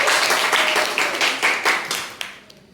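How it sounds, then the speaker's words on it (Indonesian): A small class in a Japanese-language lesson claps for a student, a short burst of close, brisk hand claps that quickens, then thins out and fades away toward the end. "Tepuk tangan oleh Mas Yasam."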